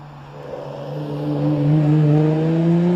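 A Porsche pulls away from the start line at the Prescott hillclimb, its engine note climbing steadily in pitch and growing louder as it accelerates over a few seconds, with no talk.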